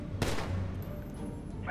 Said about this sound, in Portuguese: 10 segundos, 3 tiros quando eu falar, hein.